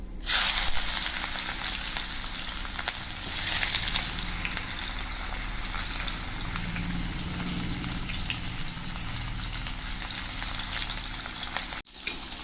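Onions fry in hot oil with mustard seeds, giving a loud, continuous close-up sizzle that barely lets up, with a short break near the end.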